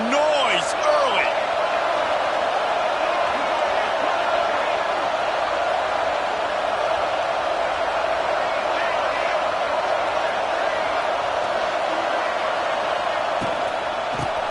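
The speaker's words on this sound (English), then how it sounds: "This crowd bringing the energy and noise early." Steady stadium crowd roar from the College Football 26 video game, a dense, continuous wash of many voices at an even level throughout, with occasional brief shouts rising out of the noise.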